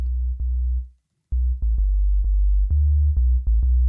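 A steady low synthesizer tone in Ableton, playing a dub arrangement, that cuts out briefly, with a sharp click at its start and several more quick clicks scattered through it.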